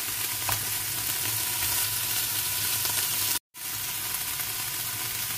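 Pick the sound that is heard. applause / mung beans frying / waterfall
mung beans frying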